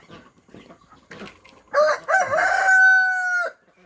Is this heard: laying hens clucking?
yes